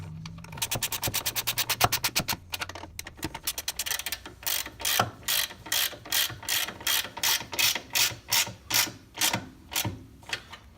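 A 10mm ratchet tightens nylock nuts on the bolts of a Can-Am Maverick rock blocker, first in quick fine clicking bursts and then in a long series of slower, evenly spaced ratcheting strokes, close and clear.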